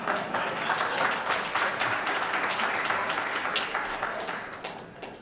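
An audience applauds honoring one of the designers of a metro system, a full, dense round of clapping that swells early and slowly tapers off toward the end.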